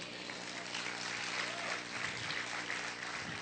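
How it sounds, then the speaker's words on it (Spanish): A crowd claps continuously, a dense and even wash of applause that holds steady from start to finish, somewhat distant, at a church service. "Vamos a aplaudir fuerte a nuestro Dios."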